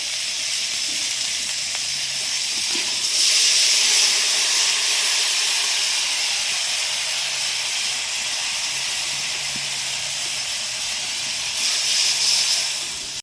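Water with turmeric boiling in a pan for a Bengali khalse fish and brinjal curry gives a steady, close bubbling hiss throughout, swelling slightly louder at moments, with no talk.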